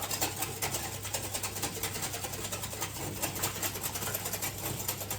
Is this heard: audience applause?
no